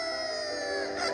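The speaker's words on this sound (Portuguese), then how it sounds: "Ele continuou cacarejando, colhendo grãos no chão o tempo todo que o show estava acontecendo." A chicken gives a drawn-out, strained clucking call in a stage show where a volunteer kept pecking at grain on the floor; one steady, fairly loud call with no talking over it.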